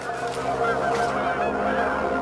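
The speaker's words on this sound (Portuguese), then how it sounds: "Alguns sugerem que foram gansos." A group of geese honking together, a dense, continuous chorus of nasal calls filling the short stretch at steady loudness.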